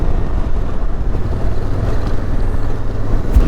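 Motorcycle riding through a salvage-logged, fire-burned forest in Oregon, a loud continuous low engine drone heavily buffeted by wind noise on the microphone, steady throughout.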